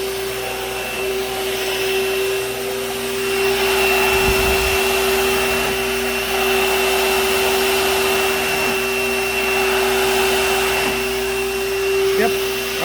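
A vacuum cleaner with a spinning brush roll drones steadily on carpet, a strong constant motor whine with a brief low thump partway through, running loud and close for the whole stretch.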